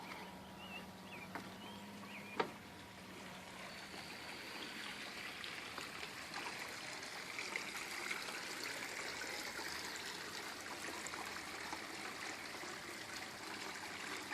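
The waterfall of a natural swimming pool, fed by a pumped hose, gives a faint, steady splash and trickle of falling water, continuous throughout with one brief tap early on.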